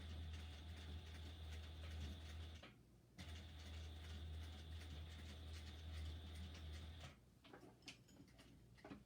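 Sewing machine back stitching a basted dress seam: a quiet, steady mechanical hum and ticking that runs for a few seconds, breaks off briefly, resumes, then stops with a few scattered clicks.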